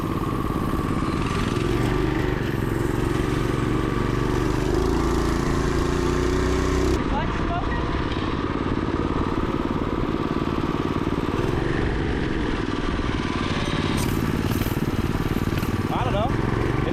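A 212cc shifter kart engine with a Coleman B200R torque converter runs loud and close in a continuous motorcycle-like drone, holding steady before an abrupt change in tone partway through, with people talking over it.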